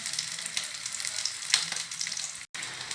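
Brick pastries filled with potato, cheese and minced meat fry in a pan, giving a bright continuous crackling sizzle, close and steady, with a sharp clack as a piece is turned and a brief cut near the end.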